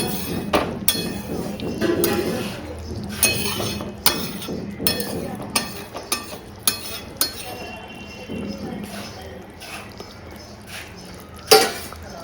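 A pot lid is set onto a pot of cooked koi fish in a home kitchen, giving a series of sharp metallic clinks and clatters, one especially loud knock near the end, over faint background noise.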